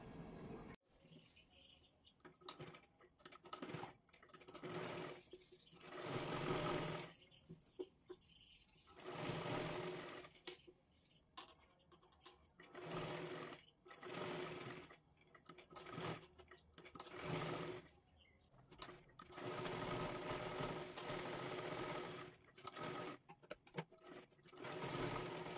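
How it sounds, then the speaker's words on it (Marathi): Sewing machine stitching a princess-cut blouse in short bursts, quiet whirring runs of a second or two separated by pauses, close but faint. "हे पहा अशा पद्धतीने आपल्याला शिलाई मारायची आहे"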